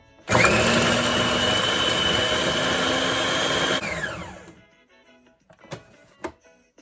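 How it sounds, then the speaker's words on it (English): A food processor whirs loudly as it chops seasonings and butter for Jamaican roast fish, a steady motor drone for a few seconds that winds down, followed by a few light clicks and knocks. "So this is all going to be chopped here in the food processor."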